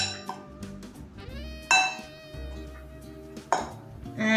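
Crumbled tofu stirred with sprinkled cornstarch in a pan, heard as two sharp clinks of a utensil against the pan over a low, steady scraping and shuffling, close and moderately loud.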